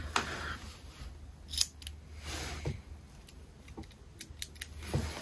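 A 0.5 mm mechanical pencil from a Rotring 4-in-1 multipen writing on paper, with close, crisp scratchy strokes in short bursts separated by brief pauses.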